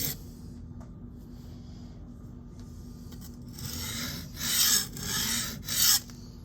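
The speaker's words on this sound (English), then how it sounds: "you remove the burr and make a soft edge on any stone you like" Knife edge rubbed on a sharpening stone to remove the burr, faint at first, then several louder gritty rasping strokes near the end, close and alone over low background hum.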